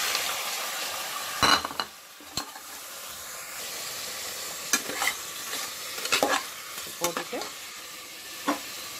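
Mutton pieces fry in a pan with ginger and garlic, giving a soft continuous sizzle. A spoon stirs and scrapes against the pan in scattered sharp knocks.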